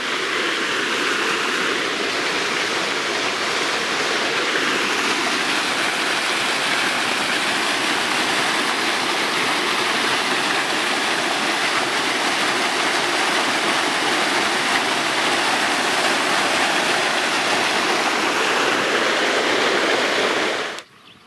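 Water rushes over a dam on a river in a steady, loud, close roar that continues unbroken for about twenty seconds before cutting off.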